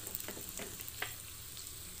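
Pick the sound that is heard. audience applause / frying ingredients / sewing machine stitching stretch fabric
frying ingredients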